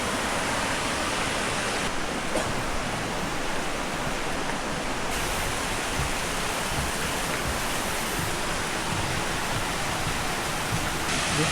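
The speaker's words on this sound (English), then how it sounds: "This falls is the tallest falls in entire Bohol." Can-umantad Falls, a tall waterfall in Candijay, Bohol, pours with a dense, steady roar of broadband rushing water that stays loud and unchanging throughout, with no voices.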